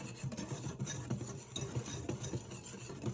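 Oatmeal raisin cookie dough being mixed in a bowl: a steady, close scraping and stirring texture with soft rhythmic thumps, continuous for a few seconds with no talking.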